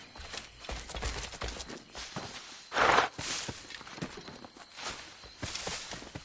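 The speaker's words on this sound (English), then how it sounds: "Horses for miles" Horse hooves clopping on the ground in Assassin's Creed IV Black Flag, a dense run of close, uneven thuds with a louder burst partway through, mixed with other game sounds.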